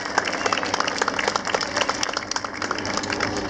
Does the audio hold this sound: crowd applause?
yes